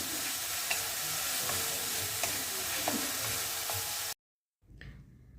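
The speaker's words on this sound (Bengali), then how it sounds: "এইভাবে মাছের যে মশলাটা আমি কষিয়ে নিচ্ছি" Fish masala with green chilli paste is sautéed in a pan, giving a steady close sizzle with faint stirring clicks. It cuts off abruptly, and after a brief silence a quieter sizzle returns.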